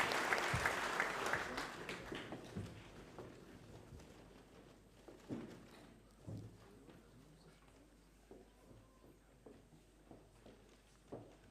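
Audience clapping at a high school junior prize giving, a burst of applause that quickly thins into scattered claps and footsteps as students walk back to their seats.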